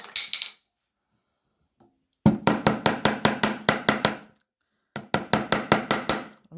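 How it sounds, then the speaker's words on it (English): A wire rose for a necklace is hammered on its back with a large face hammer, first in a brief burst and then in two fast runs of about a dozen sharp, ringing metallic strikes, close and loud, with pauses between. "So I'm just going to hammer the back"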